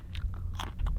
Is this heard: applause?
no